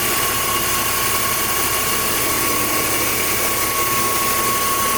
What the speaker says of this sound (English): The engine is idling.